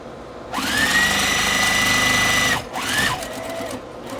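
A sewing machine stitches fabric strips at a quarter-inch seam, running in a close, loud steady whir for about two seconds, pausing briefly, then starting again in a shorter burst.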